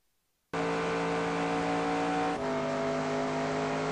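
Race car lapping Lowe's Motor Speedway in the NASCAR Racing 2002 video game: after a brief silence a loud, steady engine drone kicks in with a strong tonal whine that drops in pitch at a gear change partway through, with no talking.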